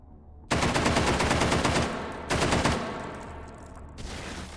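Ultimax machine gun fired one-handed in the VR game Hot Dogs, Horseshoes & Hand Grenades: two loud sustained automatic bursts, the first about two seconds long and the second shorter, then a brief final burst, close and alone.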